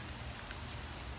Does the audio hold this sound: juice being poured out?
no